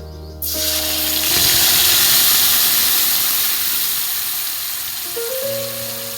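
Ground poppy seed paste hits hot oil with a sudden loud sizzle that swells into a bright, steady hiss and slowly settles, while faint background music plays underneath.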